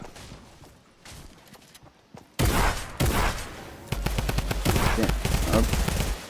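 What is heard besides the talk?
gunfire in a video game arena fight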